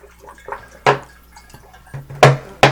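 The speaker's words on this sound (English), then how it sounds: "I'm going to go ahead and add in some more of our water to bring our level up" Water splashes and drips into a jug of muscadine wine must for a one-gallon batch, coming as a few sharp, close plops and splashes of liquid with quiet gaps between them and no talking.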